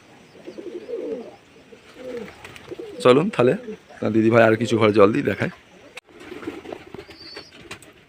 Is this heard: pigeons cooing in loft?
yes